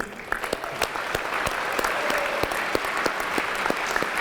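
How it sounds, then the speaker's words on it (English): An audience at a high school summer graduation ceremony applauds steadily, a dense patter of many hands clapping in a large hall, loud and sustained throughout. "A big round of applause for our JROTC."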